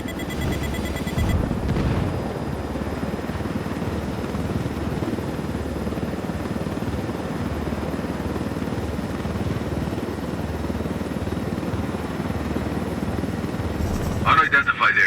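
A helicopter in Tom Clancy's Ghost Recon Wildlands flies low through a canyon, its rotor and engine making a loud, steady drone throughout that swells into heavier bursts at the very end.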